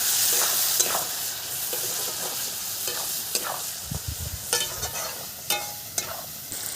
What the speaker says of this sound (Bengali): তেজপাতা জিরে ফোড়নে, দিয়ে দিলাম পেঁয়াজ